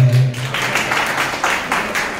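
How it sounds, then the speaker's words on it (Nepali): An audience breaks into a short burst of applause and clapping for Niraj Patel, a steady patter of many hands at moderate volume that carries on for a couple of seconds. "निराज पटेलले ताली बजाइदिनु सबैलाई"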